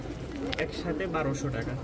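Rajshahi giribaz pigeons, all three female, coo in soft, repeated throaty phrases nearby, with people talking over them.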